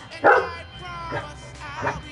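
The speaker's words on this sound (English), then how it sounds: "Why are you barking?" A pet dog named Kayla gives three separate barks indoors, close and fairly loud with short gaps between them, and a person's voice can be heard faintly in the background.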